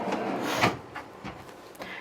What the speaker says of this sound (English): Slide out drawers.